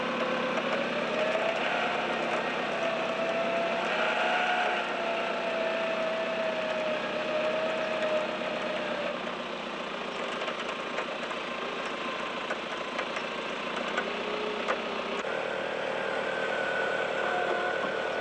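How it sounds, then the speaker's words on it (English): A vehicle engine drones steadily while a winch with double snatch blocks hauls it out of a bad bog in the Australian outback, a continuous mechanical whine and rumble with slight changes in pitch. "by using the 2 snatch blocks, plus me driving, plus the winch, I should be able to get out of this bad bog pretty easily."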